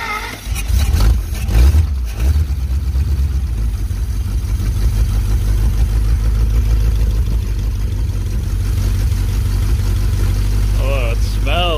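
A 1951 Pontiac Chieftain engine running after being revived, a steady low rumbling idle droning throughout, with a burst of clatter near the start and faint voices in the background.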